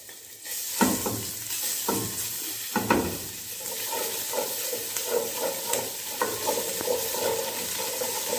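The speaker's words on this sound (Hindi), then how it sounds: "थोड़ा सा सौते करेंगे, ज़्यादा ब्राउन नहीं करेंगे इसको।" Garlic and ginger sauté in oil over raised heat for a spicy chicken hot and sour soup, with a steady close sizzle and repeated spoon stirs scraping the pan.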